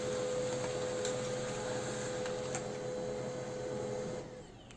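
An inkjet-style home printer runs steadily while printing an affidavit onto stamp paper, giving a continuous mechanical whir with a steady tone and faint ticks, close and fairly loud, then easing off near the end.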